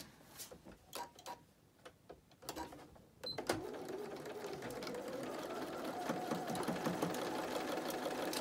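A sewing machine stitches a quarter-inch seam on a fabric face mask. A few scattered clicks and handling sounds come first, then the motor starts up and runs as a steady, close, continuous whirring buzz to the end.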